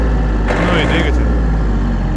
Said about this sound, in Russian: Ну и двигатель.